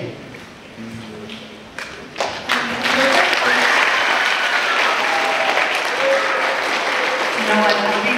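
A middle school audience breaks into applause after a presentation, starting with scattered claps and a few thumps, then swelling into sustained loud clapping from the whole room.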